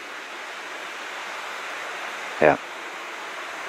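Water rushes down through the Partnach gorge, a steady broadband roar holding constant and close, with a single short spoken word breaking in briefly near the end.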